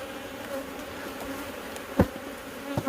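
Honey bees hum in a dense, steady buzz at an opened hive during a June inspection, close and continuous, with a couple of brief knocks from handling the equipment.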